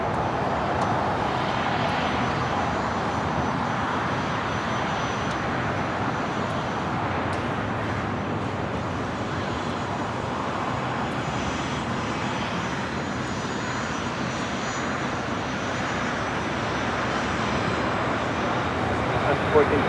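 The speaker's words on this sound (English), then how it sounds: "China Southern Cargo 777 freighter flying above us here at LAX, heading to the south side." A China Southern Cargo Boeing 777 freighter passes overhead at LAX with a continuous, loud jet engine rumble and hiss. The noise holds steady for the whole stretch, and a faint voice is audible underneath.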